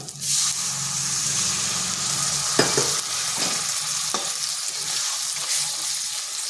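A little water poured onto spices frying in hot oil sets off a loud, steady hissing sizzle, broken by a few stirring scrapes, close up and with no talking.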